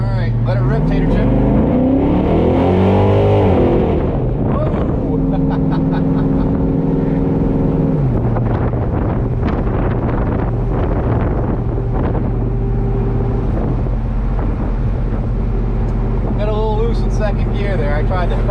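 A cammed LQ4 Chevrolet Silverado pickup with its exhaust cutouts open, revving hard and pulling through the gears. The loud, sustained engine roar rises and falls with the shifts, and a voice talks briefly over it.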